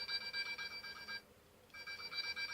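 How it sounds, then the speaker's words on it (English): The Magiranger Grip Phone Morpher toy plays a phone ringing sound effect: a rapid electronic trill in two bursts with a short pause between them, fairly quiet and with no talking. "just a simple phone ringing sound."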